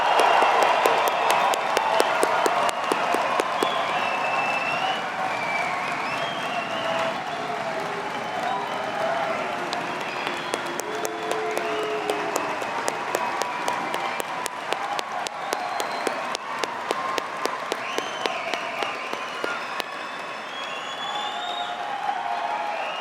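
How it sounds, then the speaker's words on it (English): Sustained audience applause fills a university Faculty of Science and Technology graduation ceremony, a dense, steady wash of many hands clapping for award recipients, loud and continuous throughout with a few louder individual claps and whoops. "giving all of our recipients of awards a final rowdy line of applause"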